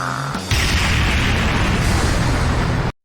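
A loud, sustained explosion as the monster Kaido is blown apart by Rangers Pink's shot, a sharp onset swelling into a dense roar that holds steady for nearly three seconds before cutting off abruptly.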